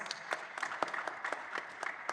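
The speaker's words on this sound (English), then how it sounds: "Please, can we give her a round of applause as she joins us?" Light applause from a conference audience as a panelist joins: scattered, fairly distant claps in an irregular rhythm, thin and quiet.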